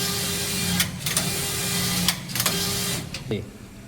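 A collar knitting machine works through the collar body, giving a steady mechanical whir with humming tones, broken by sharp clacks and brief rattling bursts at irregular intervals.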